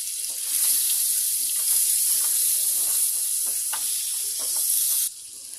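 Butter and oil melting in a kadhai give a steady, close sizzle and bubbling hiss that runs throughout and drops off abruptly near the end.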